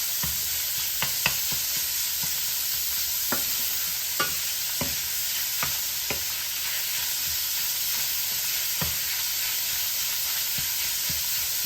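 Ground pork frying with softened garlic, onions and ginger, a steady hiss of sizzling broken by repeated light scrapes and taps of the spatula against the pan.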